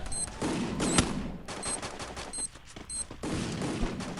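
Rapid, loud bursts of gunfire fill a ranked shooter video game match, coming in dense volleys separated by brief pauses, with no talking over them.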